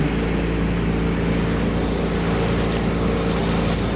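A motorboat runs fast up the Thames River through choppy waves, its engine drone steady and loud with water rush and wind buffeting the microphone throughout.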